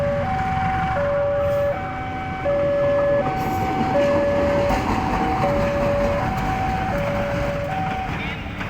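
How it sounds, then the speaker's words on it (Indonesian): A CC 203 diesel locomotive train departs Surabaya Kota station with a low rumble while a bright melodic chime of stepped tones plays repeatedly over it. "Kereta api lokomotif"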